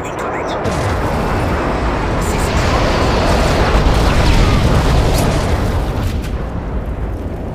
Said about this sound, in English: Enemy strafe round incoming.